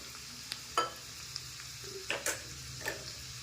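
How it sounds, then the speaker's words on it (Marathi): Garlic and ginger sautéing in oil in a pan for momo chutney, a soft steady sizzle broken by a few sharp scraping stirs of the spatula, close and moderately quiet with no talking. "आपले लसूण आणि अद्रक चांगलं हे परतून झालं आहे"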